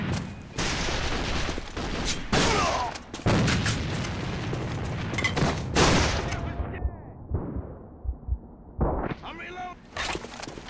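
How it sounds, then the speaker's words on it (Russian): Grenade blasts and rapid gunfire in the Alliance of Valiant Arms shooter game, a dense stream of loud booms and bursts that thins out near the end, with shouted in-game voice callouts over the combat. "Бросаю гранату!"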